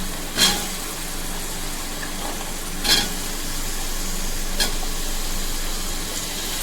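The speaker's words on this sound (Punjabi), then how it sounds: "ਹੁਣ ਇਹੀ ਮਸਾਲੇ 'ਚ ਅਸੀਂ ਆਲੂ ਵੀ ਚੰਗੀ ਤਰ੍ਹਾਂ ਭੁੰਨ ਲਵਾਂਗੇ" Potatoes roasting in spice masala in a pan give a steady, close sizzle, broken by three sharp spatula scrapes spaced a couple of seconds apart.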